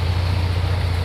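A 1968 Volkswagen Beetle MG kit car engine idles steadily, a loud, constant low drone with an even pulse and no revving or voices.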